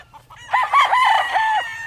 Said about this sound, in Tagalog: Yan, mga lahi ng manok ni Boss James